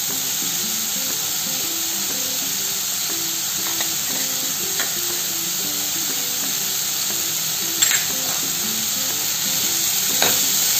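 Pumpkin cooks in a pan with jaggery added, giving a steady, close sizzle and frying hiss with faint stirring scrapes and a couple of brief clinks toward the end.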